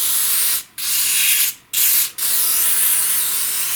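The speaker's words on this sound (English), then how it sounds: "I just spray some white grease on there." White grease sprays from an aerosol can onto Craftsman snowblower parts in three close, loud hissing bursts, each broken by a brief pause, with no voices.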